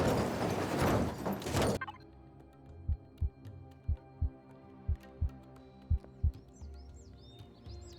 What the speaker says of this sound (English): You can hear our heartbeat in the background.